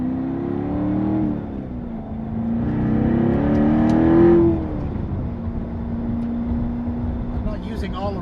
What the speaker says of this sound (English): As you can hear, a little throatier note to the exhaust.